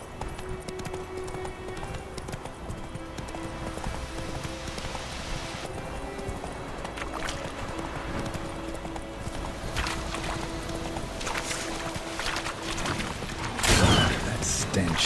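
Horse hooves clip-clop at a steady trot through much of the scene in The Witcher 3 video game, joined by soft rain and a brief whinny near the end, with a low continuous bed of game ambience beneath.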